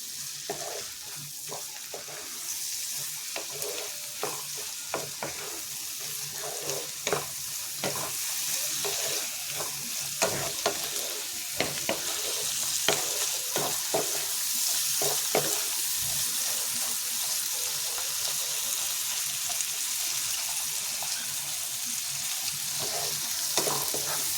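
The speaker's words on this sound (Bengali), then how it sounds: "এটা আমি পুরোটাই এখন তেলে পুরো মাখা মাখা ভাজবো" Onions fry in hot oil in a pan over a raised gas flame, a constant close sizzle with repeated scraping stirs throughout and no talking.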